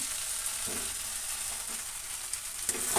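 Prawn, potato and ridge gourd curry sizzling in a pan as it is stirred, a steady moist crackle with a few scraping strokes of the spoon.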